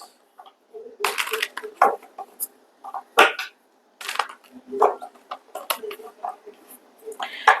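Tarot cards being shuffled in the hands for a reading, giving close, crisp bursts of papery riffling and slapping in irregular clusters with short pauses between.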